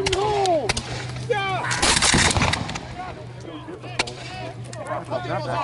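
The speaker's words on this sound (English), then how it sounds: "They're all shooting." Musket volley fire at a Fort Niagara battle reenactment: a few sharp black-powder reports stand out against shouting voices and a steady low drone, with a dense burst in the middle of the clip.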